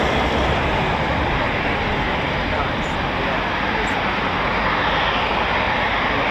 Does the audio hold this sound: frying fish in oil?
no